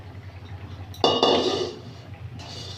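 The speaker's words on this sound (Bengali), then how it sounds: "এই দেখুন ঝোলটা ফুটে উঠেছে, এইবারে মাছগুলো দিয়ে দেবো।" Fish pieces go into a pot of boiling curry with a sudden metallic clatter of the pot and utensil, followed by a brief ringing clink that fades within about a second.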